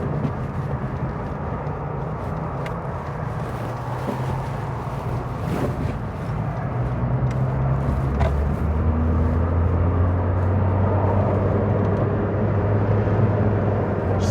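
Car with fresh 0W-20 synthetic oil driving on the road, a steady low engine and road rumble heard from inside, growing slightly louder as it accelerates.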